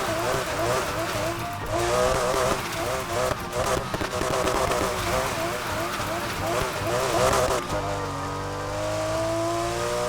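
A Porsche RSR drifting in Need For Speed Heat, its engine droning and changing pitch as it slides, with sustained tyre squeal and rushing road noise beneath someone talking.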